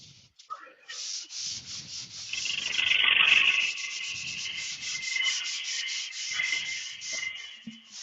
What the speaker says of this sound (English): Use spindle gouge.